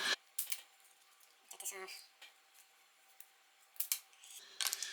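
Several short, sharp snips of cutters slicing through the clutch switch wiring connectors on an E46 M3 during a manual swap, a few crisp cuts spread apart with quiet pauses between them.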